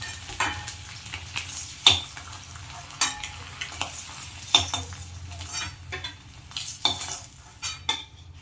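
Eggs frying in a small amount of oil for egg curry sizzle steadily in a pan, with repeated sharp scrapes and clinks of a utensil stirring and turning them.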